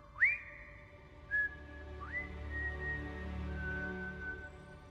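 A series of three or four clear, sustained whistle tones, each sliding up at the start and then holding steady, over a quiet low hum.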